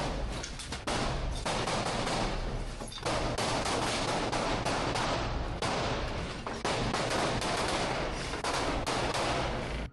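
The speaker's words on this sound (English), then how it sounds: "Russian soldiers are entering all buildings to secure them and firing inside." Dense, loud gunfire as soldiers fire inside buildings during an assault, rapid overlapping shots and bursts continuing almost without pause, with a brief lull near the start.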